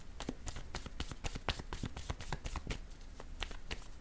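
A tarot deck is shuffled close up in a fast, steady series of crisp riffling card slaps, quiet and continuous with no voices.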